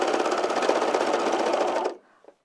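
A serger overlock machine stitches lounge pants in one fast, steady whirring run close by, stopping abruptly near the end, then a few faint handling clicks.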